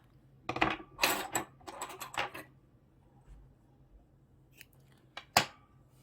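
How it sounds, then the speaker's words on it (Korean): Scissors snip through three-ply knitting yarn while a dog cardigan is being finished: a quick cluster of crisp metallic cuts, then a near, sharp snip after a quiet pause. "실을 잘라서"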